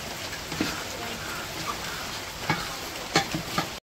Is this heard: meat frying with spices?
yes